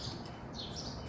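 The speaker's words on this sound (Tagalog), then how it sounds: "Ang daming ibon." Several small birds chirp and tweet in a quick, continuous jumble outdoors near blooming summer flowers, faint and somewhat distant, with no talking.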